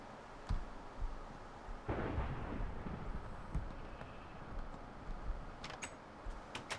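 Stormy weather in a Minecraft modpack world, with a steady wash of rain noise broken by several low rumbles and cracks of thunder, heard alone without any voices.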